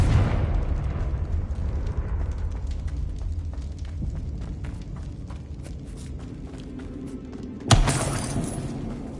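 A Confringo spell explosion in Hogwarts Legacy: a sudden burst near the end, over a steady rumbling game background with faint footstep-like ticks.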